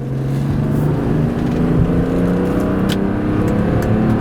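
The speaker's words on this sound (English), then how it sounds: "Nice smooth power through the rev band." A 1994 Mercedes-Benz W124 E 320 sedan engine revs up smoothly and steadily, a loud continuous drone climbing in pitch with no voices.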